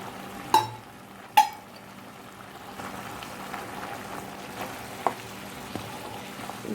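Raw jackfruit pieces sauté in a pan, with two sharp clinks of a spoon against the pan followed by a soft, low sizzle and faint scraping.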